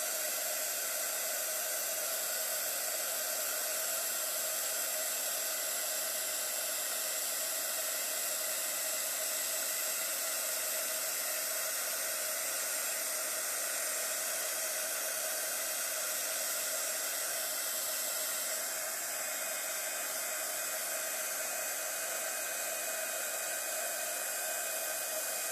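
Embossing heat tool melting embossing powder, a steady loud whooshing blower hiss with a constant motor whine, unbroken for the whole stretch and alone without speech.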